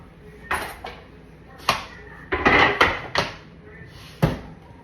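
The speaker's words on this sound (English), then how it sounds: "I'm gonna slide this skillet over here out the way" Kitchen clatter of a metal skillet being slid aside on a stovetop, several short knocks and scrapes scattered across the stretch, close and fairly loud, with no talking.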